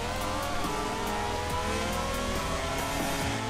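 A Ferrari Formula 1 car races through the corners at Mugello, its engine a loud, continuous high-pitched scream that shifts in pitch through the changes of direction, with no talk over it.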